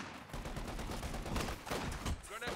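A flak half-track fires in a video game with a rapid fusillade of overlapping gunshots, dense and sustained through the brief burst.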